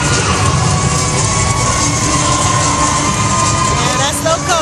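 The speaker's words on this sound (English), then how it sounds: "These guys have a lot of crowd support." Dense, continuous crowd noise of cheering and shouting at a novice squad's tumbling routine during a black college all-star national cheerleading competition, loud and sustained throughout with babble mixed in.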